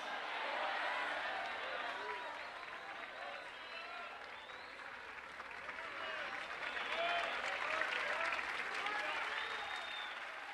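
Sustained applause from a church congregation at a Brazilian evangelical service, steady and dense for the whole stretch, with voices calling out underneath.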